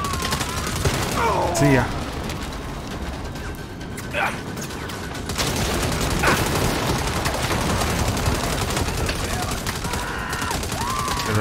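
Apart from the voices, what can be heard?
gunfire in the Saints Row video game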